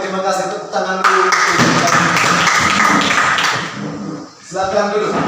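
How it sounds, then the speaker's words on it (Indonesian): A classroom of students claps their hands together in a burst of loud, dense clapping between stretches of voices, dropping briefly before speech resumes. "Tepuk tangan dulu."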